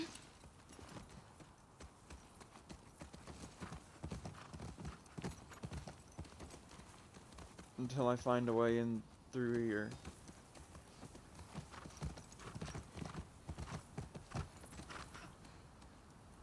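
In the video game The Last of Us Part II, hooves clip-clop in a steady walking rhythm throughout, with a horse snorting and whinnying briefly midway; someone talks over part of it.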